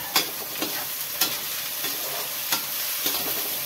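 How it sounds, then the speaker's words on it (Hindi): Soya chunks fry and get stirred in a pan, with a steady close sizzle broken by periodic scraping strokes of a spoon against the metal. "बरियों को अच्छी तरीका से इसमें भूने थोड़ा"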